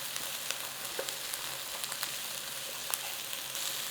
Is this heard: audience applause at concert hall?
no